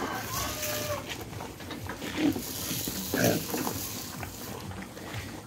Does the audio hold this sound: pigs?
yes